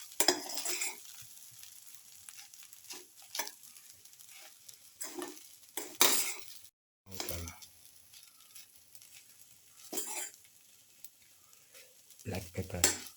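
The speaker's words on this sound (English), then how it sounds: "salt thoroughly, and mix with the rice. Thoroughly salt and mix. Dip on and sauteing for 1 to 2 minutes" Egg fried rice being stirred and sautéed with salt in a pan, with scraping spatula strokes and light sizzling in bursts, fairly quiet and near, with a brief silent gap midway.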